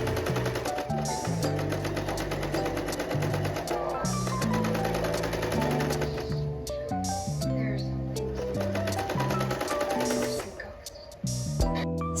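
A sewing machine runs steadily while stitching a trouser seam, a continuous close mechanical whir with a rapid needle rhythm. Background music plays loudly throughout.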